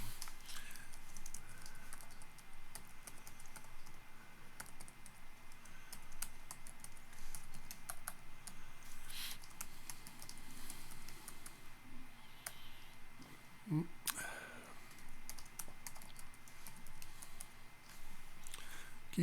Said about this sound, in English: Keyboard sticking a bit.